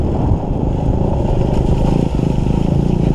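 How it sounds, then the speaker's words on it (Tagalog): A small motorcycle runs steadily on a wet road in the rain, its close engine drone loud and continuous with a slight rattle throughout. "Ang lambo, ang gaang na itong motor eh."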